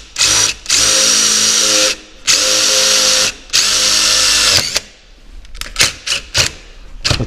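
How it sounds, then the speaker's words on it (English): A power drill bores a hole for self-tapping screws while replacing a mortise apartment lock, whirring loud and close in two sustained runs, then sputtering through a series of short trigger bursts. "So make a hole right next to this hole."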